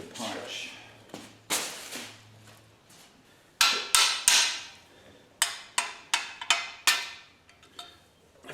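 A hammer strikes a metal punch during assembly of a transmission jack in a workshop, giving sharp, ringing metallic hits, first a few spaced blows and then a quicker run of them, close by, with a voice speaking briefly.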